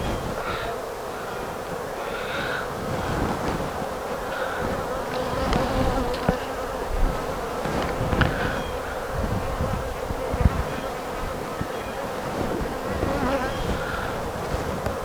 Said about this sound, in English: Pretty good bit of bees in there.